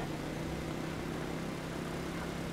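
A motorcycle being ridden in a survival MMO video game gives a constant, even engine hum with a low tonal drone, steady and unbroken.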